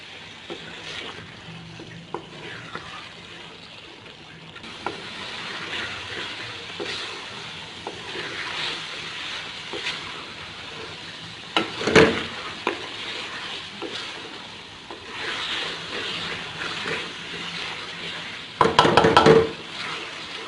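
Chicken makhan karahi gently stirred and roasted with a spoon in a pan, a quiet continuous sizzle with scattered light scrapes and a couple of louder bursts of spoon clatter, close up with no speech.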